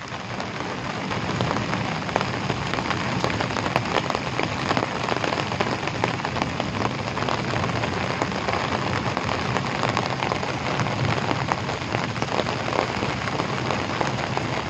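Heavy monsoon rain pours down in Deesa, Banaskantha, a dense, unbroken roar of water drumming on surfaces that stays loud and even throughout, with no voices.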